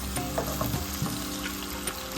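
Cubed potatoes dropped into hot ghee in a pan, a steady close sizzle of frying with a few soft clatters and stirring knocks over the top.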